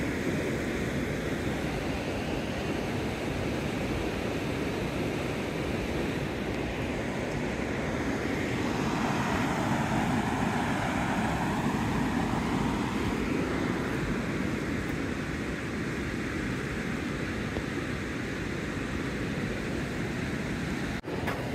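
Strong river current rushes steadily near a waterfall on a forest portage trail at Senneterre, a constant broadband roar of moving water that stays loud and unbroken throughout.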